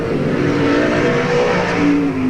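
Race cars on a road racing circuit in a New South Wales sports car race roar past with steady engine drone and a rising whine, loud and continuous with no talk.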